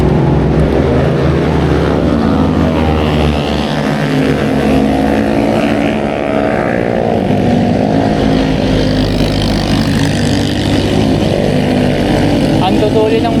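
A boat motor drones loudly and steadily on a trip toward the Sierra Madre, a continuous close engine hum with speech mixed in over it.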